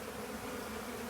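Honeybees buzz steadily and closely around a beekeeper's gloves at an open hive, a dense, continuous drone with no voices.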